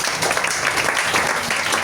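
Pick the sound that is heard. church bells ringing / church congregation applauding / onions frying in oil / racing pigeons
church congregation applauding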